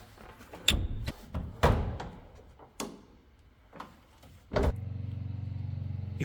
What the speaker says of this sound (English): Let's start by opening the hood. Basically, hood release is under here.